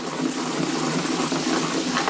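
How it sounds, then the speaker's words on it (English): Spinach being washed under running water that sprays all over, a steady close rushing and splashing with no pauses. "water spraying all over the place"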